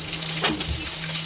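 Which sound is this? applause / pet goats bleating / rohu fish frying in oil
rohu fish frying in oil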